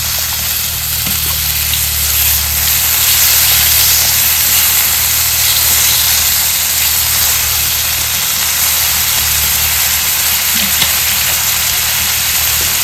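Crab curry masala with a little water added simmers in a pan, giving a loud, continuous hissing, bubbling sizzle over a low steady hum, unbroken and without talk.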